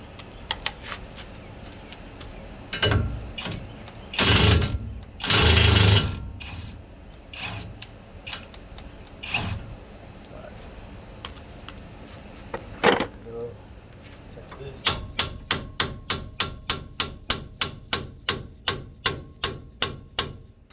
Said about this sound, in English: I'm finna take the tie rod off. Use a 21.